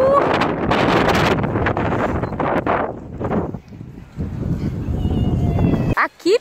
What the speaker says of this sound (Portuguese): só senti o vento aí